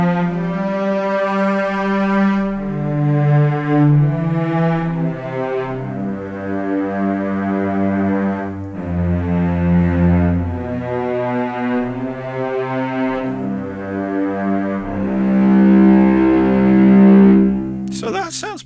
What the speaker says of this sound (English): if we go to strings and we pick long and we'll put a bit of reverb in, so you've got nice cello